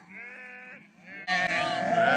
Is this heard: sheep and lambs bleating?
yes